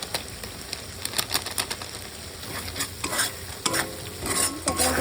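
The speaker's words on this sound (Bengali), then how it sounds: "এবার নাড়িয়ে গ্রেভিটা লাগিয়ে দেবো" Chili chicken being stirred with tomato, chili and soy sauces, black pepper and red chili powder in a frying pan, giving a steady run of close scraping and clinking strokes over a constant sizzle, with no talking.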